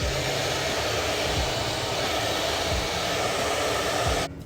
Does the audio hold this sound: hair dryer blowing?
yes